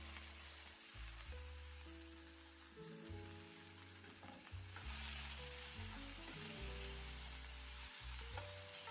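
Chopped onion drops into hot oil with chana dal and green chillies for an avalakki (beaten rice) tempering, giving a quiet, continuous sizzle and crackle with a faint low hum beneath it.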